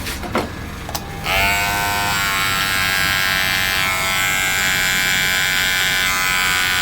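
An electric hair trimmer, a large clipper set to zero, buzzes steadily and loudly up close while cutting hair, starting after a short burst of handling noise and running continuously to the end.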